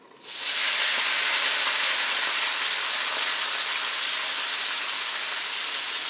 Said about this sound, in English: You hear it sizzling because it's still hot from when I just took those vegetables out